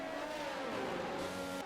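An F1 car engine from the racing game F1 22 on the Belgian GP circuit, a sustained high whining drone whose pitch sweeps and shifts as the car revs, close and continuous.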